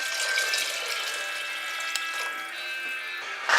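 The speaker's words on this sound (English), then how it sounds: "And to my tomatoes I'm adding now 750 ml of water" Water from a measuring jug is poured onto tomatoes in a pot, 750 ml in all, a steady hissing splash lasting several seconds at close range with a brief louder slosh at the end, no talking.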